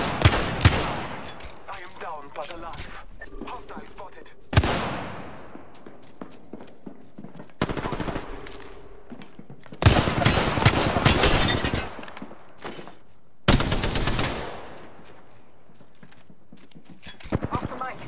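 Gunfire bursts in the video game Galvanize, several loud broadband volleys spaced across the stretch with quieter game ambience and radio-style voice callouts between them.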